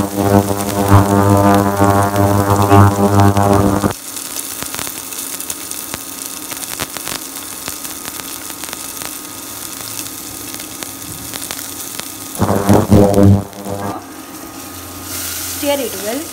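Garlic hits hot oil in a pan for tomato spaghetti, breaking into a loud continuous sizzle after an opening hum-like tone, which briefly returns near the end.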